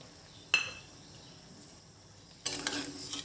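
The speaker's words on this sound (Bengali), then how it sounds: "এর মধ্যে এখন ঝোল দিয়ে দেবো।" Broth is poured into a hot pan of sizzling small fish and greens curry, a sharp clink and then a rising hiss and bubbling sizzle over steady low frying noise.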